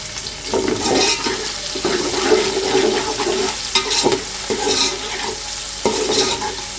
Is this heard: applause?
no